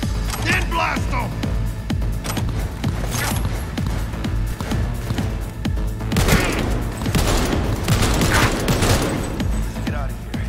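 Gunfire from a Cyberpunk video game battle, with dense bursts of shots and booms running nonstop over a loud mix, while a player talks over the action.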